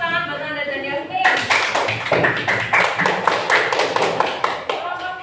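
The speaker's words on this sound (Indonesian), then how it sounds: "Tepuk tangan buat Nanda dan Yasmin" A classroom audience breaks into clapping after a brief spoken introduction, producing a lively run of close, uneven hand claps that carries on to the end.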